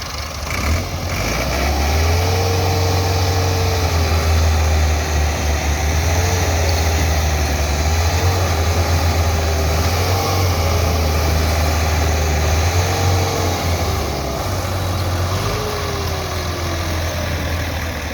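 A tractor engine labouring under heavy load to pull a stuck, overturned trailer loaded with maize, a loud, continuous low diesel drone with a wavering strained pitch that holds steady for the whole stretch, no talking.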